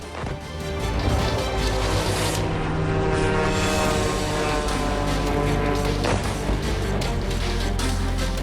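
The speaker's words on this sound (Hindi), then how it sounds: "गौर से देखिए किस तरह बारूद से लदे सुसाइड ड्रोन हाई राइज बिल्डिंगों को टारगेट कर टकरा रहे हैं" Loud, continuous roar of explosive-laden suicide drones striking high-rise buildings in Kazan, Russia, with blasts, dense and sustained throughout, with no voices.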